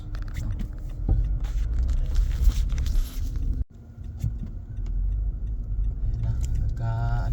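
Road traffic stalled in a snowstorm, a low steady rumble of idling car engines nearby, broken by a short dip midway and a faint rhythmic ticking near the end.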